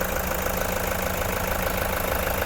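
A 2015 Toyota Commuter 3.0 diesel van idling with a steady, even, close mechanical clatter and hum, with no voices.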